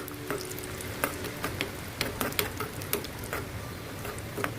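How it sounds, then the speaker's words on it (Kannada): Cashew nuts frying in ghee in a small tempering pan on medium flame, a soft continuous sizzle with scattered sharp pops and occasional scraping stirs, close and fairly quiet, no voices. "ಈಗ ಒಗ್ಗರಣೆ ತವಾದಲ್ಲಿ ಒಂದು ಚೂರು ಗೋಡಂಬಿ ಬೀಜ, ಕ್ಯಾಶ್ಯೂ ನಟ್ ಆಯ್ತಾ, ಇದನ್ನು ಹಾಕಿ ಇದನ್ನು ಸ್ವಲ್ಪ ಕೆಂಪಗೆ ಹುರ್ಕೊಳ್ಳೋಣ"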